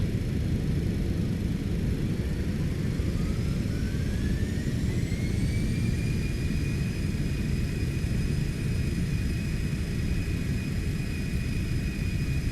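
Cessna Citation X jet engines spooling up in reverse thrust after landing in X-Plane 12, a constant loud rumble with a rising whine that climbs in pitch and then holds steady.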